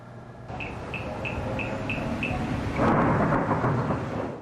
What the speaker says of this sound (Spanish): el portal digital Tumbaco Informado captó la intensa tormenta eléctrica que soportó el valle de Tumbaco